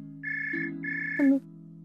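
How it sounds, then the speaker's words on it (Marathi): A telephone ringtone goes off in a home scene from a Marathi TV drama as a call comes in from an aunt. Two sustained electronic tone bursts ring out close and clear over a low steady hum, followed by a brief brighter chirp. "मावशीचा फोन आहे."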